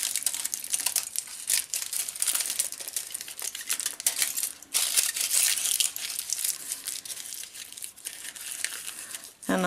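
Tin foil is wrapped and crumpled around a paper ball to shape a small pumpkin, giving close, crisp crinkling and crackling bursts that continue almost without a break.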